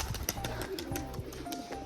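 A newly paired pair of pigeons coo softly at home, with low, rhythmic pulsing calls close by amid faint background sounds.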